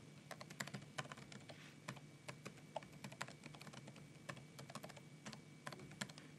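Typing a username on a computer keyboard while setting up Wi-Fi in Windows: quiet, rapid, irregular key clicks continuing steadily throughout, close by, with no talk over them.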